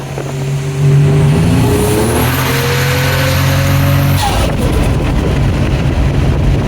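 A 1987 Buick Grand National engine pulls hard at about half throttle, a loud, close roar climbing steadily in pitch for several seconds. It then drops abruptly and settles into a rough, heavy rumble.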